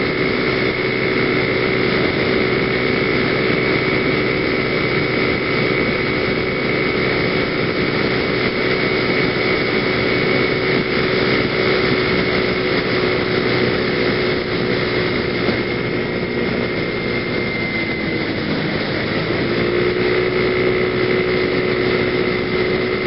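Scooter engine droning steadily on a country ride after a snowstorm, a continuous buzzing hum with a slight pitch dip near the end, close and loud with wind-like rumble and no speech.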